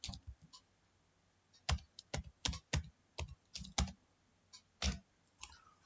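Someone types a Java program on a computer keyboard, the keys landing in irregular clusters of sharp, close clicks with short pauses between bursts.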